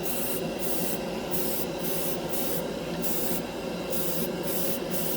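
An airbrush sprays a coat of mustard-yellow Mr. Color lacquer paint with a continuous close hiss that pulses slightly as the trigger is worked, no voices.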